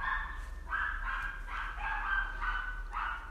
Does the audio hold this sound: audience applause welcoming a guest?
no